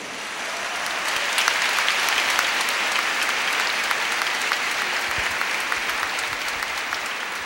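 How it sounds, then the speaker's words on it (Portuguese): A church congregation applauding at a Catholic sermon, a full sustained wash of clapping from many hands that swells in after a quiet start and holds steady to the end. "Pode aplaudir a palavra."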